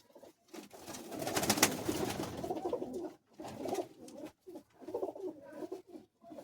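Flying pigeons in a loft coo softly and repeatedly, low throaty calls in short bursts heard fairly faint with no talking.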